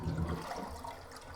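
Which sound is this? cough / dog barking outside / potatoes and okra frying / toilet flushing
toilet flushing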